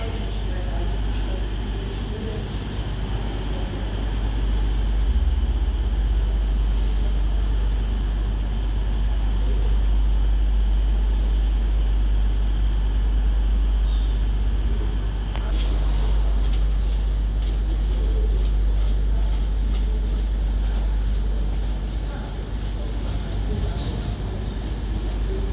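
A two-coach train at Sheffield station gives a steady, loud low rumble of engine and rolling stock that holds throughout, with faint station clatter above it.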